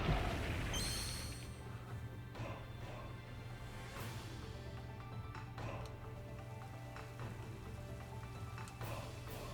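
Steady rain-weather patter in a Pokémon Sword and Shield VGC doubles battle, constant soft hiss with light drop taps under low background hum.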